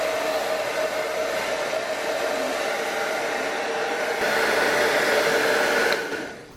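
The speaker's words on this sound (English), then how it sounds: "I do end up using my hair dryer to make this process a lot faster." A hair dryer blows steadily over watercolor paint on paper, a constant close whoosh that swells briefly louder before switching off at the end.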